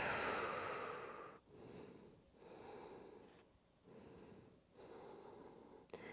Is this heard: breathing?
yes